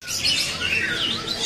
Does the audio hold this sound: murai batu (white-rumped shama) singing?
yes